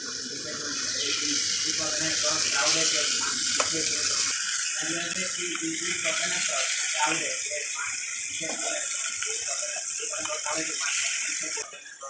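Pond fish frying crisp in oil makes a steady hiss and sizzle under a person talking throughout.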